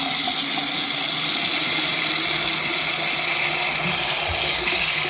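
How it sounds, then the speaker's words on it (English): Water runs steadily from a bathroom sink faucet during a clogged-drain repair, a continuous broadband hiss that stays loud and even throughout with no talking. "Turn the sink up."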